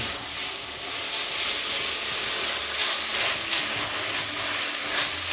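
Ground beef sizzles steadily in a pot as it browns for hamburger soup, a loud, even hiss close by with no talking over it.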